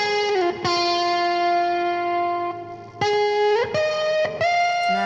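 Heavily distorted live electric guitar solo with sustained, bending notes separated by sharp picked attacks, loud and close with no voices.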